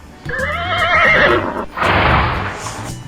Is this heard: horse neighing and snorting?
yes